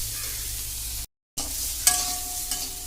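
Crabs stirred and fried in a hot wok, a soft close sizzle with scraping stir sounds and a few clinks, broken by a short silence.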